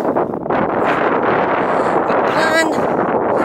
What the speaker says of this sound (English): I'm going to turn off now because the wind would be terrible.